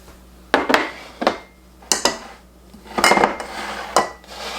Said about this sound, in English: And then we're going to beat the eggs a little bit,